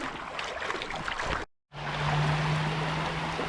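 Creek water running over slick rock, a steady close rushing and burbling flow with a brief dropout midway, after which the water continues alongside a faint steady hum.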